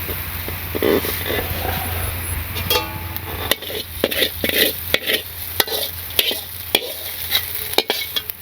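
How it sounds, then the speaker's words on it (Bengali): Sponge gourd (dundul) stir-fried in a pan in a village kitchen, a steady sizzle broken by repeated sharp scrapes and clacks of a spatula, close and fairly loud, with no talk. "আজকে দুন্দুল ভাজি আর হচ্ছে"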